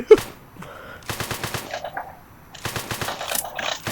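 Video game gunfire during a bank robbery: rapid automatic bursts in two long volleys with a single shot at the start, loud and close, with a short gap between them.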